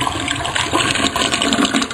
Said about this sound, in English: I guess that's a 6-liter flush.